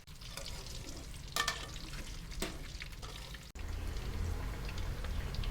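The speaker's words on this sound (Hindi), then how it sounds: "ये इसी ऑयल में हम ये आलू डाल देंगे। ये देखिए, ये फ्राई करने के लिए" Potato pieces fry in oil in a pan, a moderate sizzling hiss broken by a few scraping stirs, growing slightly fuller toward the end.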